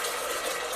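Water runs steadily from a portable reverse osmosis filtration system, a soft, even hiss of flow with no voices.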